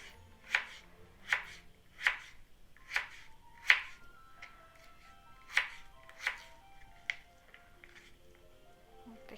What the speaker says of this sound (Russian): Теперь на брусочки порежем картофель.